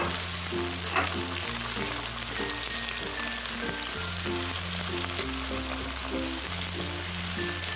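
Tomatoes frying in a pan for a squid Padang-sauce seafood dish, giving a steady crackling sizzle over a repeating low musical background, with a small stirring knock near the start.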